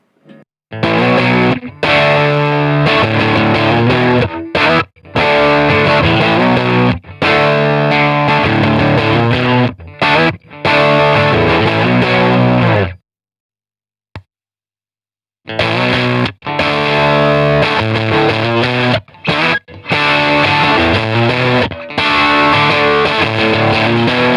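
Heavily distorted electric guitar through a fully cranked Fender '57 Custom Deluxe tube amp, loud and saturated, playing chugging chords in bursts, with a brief silence and a single plucked note before the riff resumes.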